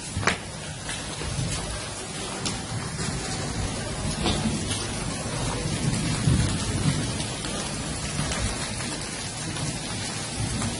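Steady rain pours down with rolling thunder on a sunny Independence Day afternoon, the dense hiss of drops on surfaces filling the scene and low rumbles swelling beneath, with no voices.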